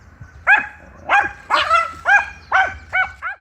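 A little puppy, confronted by an aggressive lizard, gives a run of about seven sharp, high yipping barks at a steady rhythm, close and clear with no talk over them.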